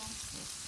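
Food sizzling and frying in a pan while a meal of brengkes and soto is being cooked, a steady close hiss running without a break.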